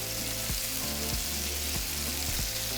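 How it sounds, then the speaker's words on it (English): Bacon and a burger patty sizzle steadily on a hot griddle, a dense continuous crackle with a few soft thumps of a spatula, no voices. "And I'm also going to flip my bacon over."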